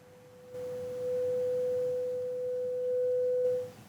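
A steady 500 Hz sine wave from a synthesizer sounds alone as a pure, even tone lasting about three seconds before cutting off cleanly.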